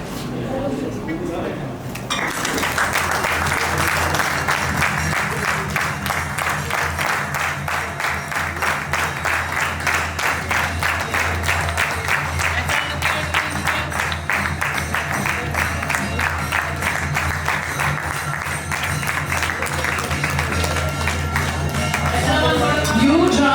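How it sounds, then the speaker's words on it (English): Sustained audience applause at a Rotary Club meeting as the chief guest is called on stage, a dense steady clatter of hands under a low hum, with voices mixed in. "Huge round of applause, ladies and gentlemen."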